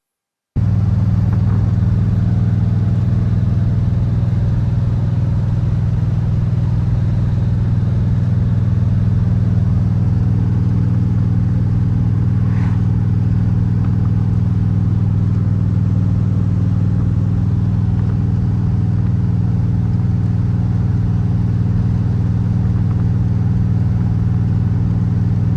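An abandoned Pontiac, driven for the first time in decades, runs with a loud, steady low engine rumble that holds close and continuous throughout, with no talk over it.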